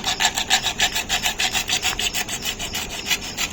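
Rapid back-and-forth cutting by a blade on a small grinding machine at a house construction site, a steady rhythmic rasping stroke repeating several times a second, close and fairly loud with no voices.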